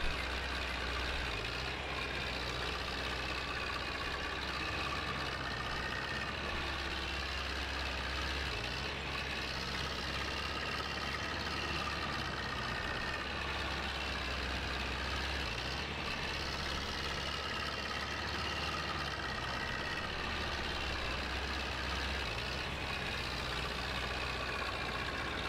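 A tractor engine idles steadily in Farming Simulator 22, a constant low rumble with a deep, even drone that holds unchanged and alone for the whole stretch.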